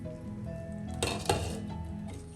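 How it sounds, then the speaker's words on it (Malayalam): A metal lid lifted off a cooking pot of tomatoes and masala for chicken mulakittathu, giving a couple of close clinks and clatters against a low kitchen hum. "പാത്രത്തിൻ്റെ അടപ്പൊന്ന് എടുക്കാം."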